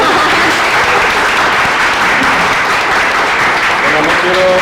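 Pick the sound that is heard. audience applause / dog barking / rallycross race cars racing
audience applause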